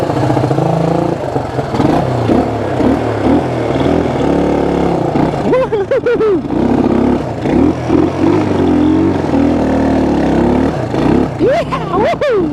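Honda XL175 dual-sport motorcycle engine revving hard as the rear wheel spins in snow, a loud continuous roar with rising and falling pitch sweeps, rider's voice briefly over it.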